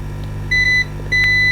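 Continuity beeps from a multimeter testing the fuse on a Fujitsu LifeBook A512 laptop: two short, clear electronic tones, the second slightly longer, over a steady low electrical hum, with no talking.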